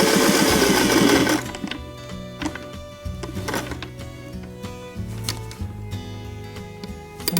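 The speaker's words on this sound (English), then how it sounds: "I'm just going to sew down this line and over and then stop" A sewing machine stitches a military name patch, its motor whirring in steady runs with rapid needle clatter, starting with a louder rushing burst, then pausing and changing pace as the seam turns a corner.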